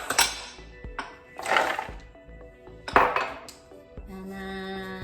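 Cashews being poured into a blender jar with lemons for spicy cheezy kale chips, giving clattering bursts and clinks against the container, several irregular rattles with a soft hum near the end.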